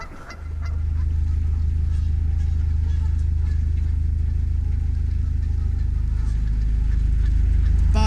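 Canada geese honk continuously beside a canal, a dense, noisy chorus of overlapping trumpeting calls with a steady low engine rumble beneath throughout.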